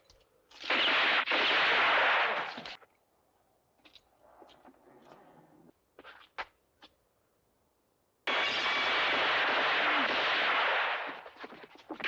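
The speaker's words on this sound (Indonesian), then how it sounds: "Mereka menghadapi sisa geng satu persatu dan menembak mati mereka di jalanan kota." A gunfight on a town street in a Western film, with two long, loud bursts of rapid gunfire separated by a quieter stretch of scattered shots and short sharp cracks.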